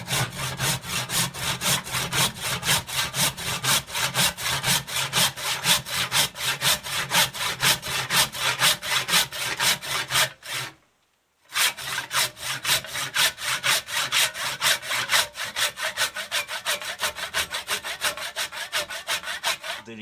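A hand saw rasps through a wooden axe handle in fast, even back-and-forth strokes, stopping briefly for a moment before the sawing resumes at the same rhythm.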